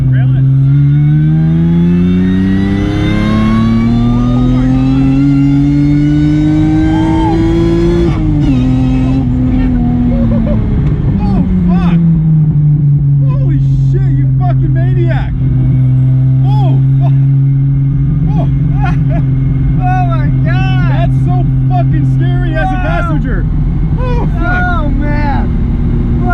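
A turbocharged Toyota MR2 with a 3S-GTE engine and six-speed gearbox accelerates hard, its engine note rising loud and close through the gears before settling into a steady drone. Voices talk beneath it.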